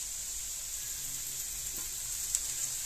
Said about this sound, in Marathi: बारीक कापलेली शिमला मिरची घालू. थोडीशी आलं लसूण पेस्ट घालू. हे असे फ्राय करून घेऊ.